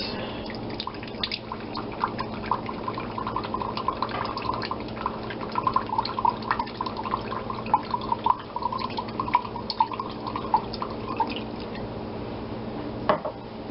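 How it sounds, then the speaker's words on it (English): Soy sauce pouring into a measuring cup in a home kitchen, a steady thin trickle and dribbling liquid sound lasting over ten seconds, close and fairly quiet with no voices. "So you take another measuring cup, measure out the soy sauce,"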